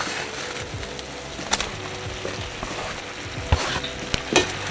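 Beef and garlic sizzle steadily in a hot pan for pepper steak, with continuous frying crackle and a few sharp scraping stirs of a utensil, close and fairly loud, no talking.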